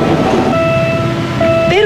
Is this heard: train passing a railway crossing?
yes